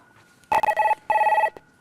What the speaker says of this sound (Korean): 전화부터 한번 연결해 볼게요.